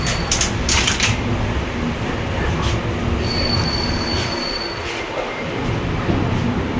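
A train pulling into Yesvantpur station in Bangalore, its wheels squealing loudly and steadily against the rails over a constant rumble of the moving carriages, with sharp bursts of metallic screech near the start.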